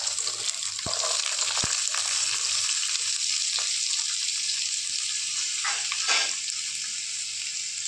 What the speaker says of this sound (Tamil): வெங்காயம் கண்ணாடி பதம் வர வரைக்கும் நல்லா வதக்கிக்கலாம்.